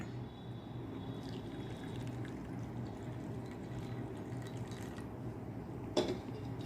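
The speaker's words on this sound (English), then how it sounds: "in this second bowl I am going to fill it with the hot water" Hot water is poured into a bowl for a classroom experiment with water, a low, steady trickling wash that runs on quietly, with a single brief knock near the end.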